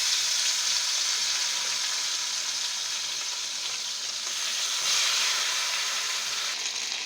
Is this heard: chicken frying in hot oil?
yes